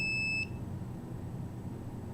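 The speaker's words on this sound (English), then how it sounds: "Why is the palm of my hand setting off the alarm?" A detector alarm gives a high electronic beep that cuts off after about half a second, leaving faint low room noise and no speech.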